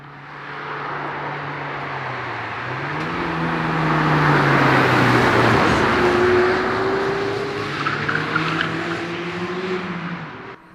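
Mazda MX-5 Targa driving at a Spanish car meet on the Susten Pass in the Swiss Alps, its engine note climbing and easing back as the car passes nearby.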